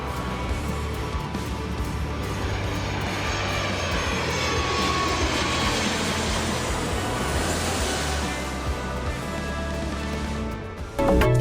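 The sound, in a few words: South African Airways plane engines during takeoff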